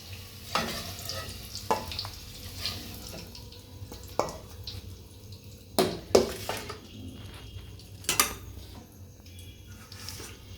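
Potatoes frying in oil in a home kitchen, a low steady sizzle punctuated by several sharp clatters and scrapes of a spatula against the pan, with no speech.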